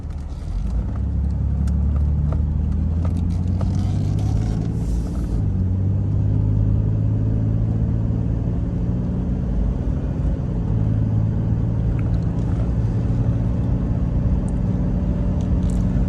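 A 1990 Chrysler TC by Maserati gives off a low, steady buzzing hum as its brake system re-energizes, a continuous droning rumble heard inside the car with no talking.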